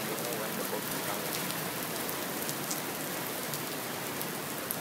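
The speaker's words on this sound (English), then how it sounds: "And again it's raining." Steady, dense rain falls and patters on surfaces around a shelter in Singapore, an even wash of sound with no voices.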